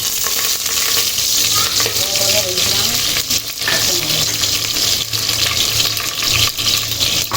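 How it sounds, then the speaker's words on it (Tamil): Cinnamon, cloves and cardamom frying in hot oil for tomato rice, a loud continuous sizzle with stirring clatter throughout, close up. "இப்போ வந்து எண்ணெய் காஞ்சிருச்சு. இந்த பட்டை, லவங்கம், ஏலக்காய், கிராம்பெல்லாம் சேர்த்துக்குவோம்."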